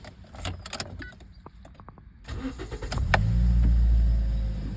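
A used Toyota Auris with a 1.6 petrol engine and automatic gearbox starts up: clicks and jangling keys, then the starter cranks and the engine catches into a steady close idle hum.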